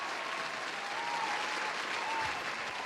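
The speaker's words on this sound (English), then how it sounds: "I want to give my own round of applause" Soft, continuous applause from a small group, a steady patter of clapping hands at low volume throughout.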